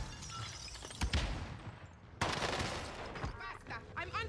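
Gunfire in Call of Duty Warzone on Rebirth Island: loud, close bursts of automatic fire with sharp reports and a brief pause, mixed with game effects and faint background chatter.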